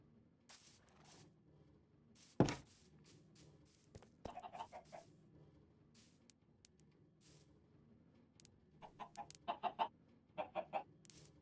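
Chickens cluck in a Minecraft game world, a few short scattered bursts early on and then a quicker run of repeated clucks near the end, fairly quiet with no talk over them.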